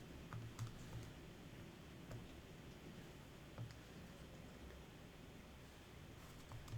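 Keys on a calculator are tapped to enter a calculation, giving faint, sparse clicks spaced a second or so apart over a quiet room hiss.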